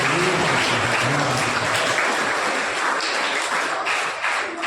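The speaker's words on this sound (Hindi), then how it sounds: "जोरदार तालियों के साथ स्वागत है।" An audience at a club's sweater distribution event at a school in Sujangarh claps loudly and steadily to welcome a guest, a dense, even wash of applause with a distant voice faintly underneath.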